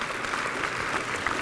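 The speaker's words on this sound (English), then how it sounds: "can we have a round of applause for Peggy King" A room full of diners at a political party dinner breaks into a brief burst of steady applause, a dense wash of clapping heard alone at close range.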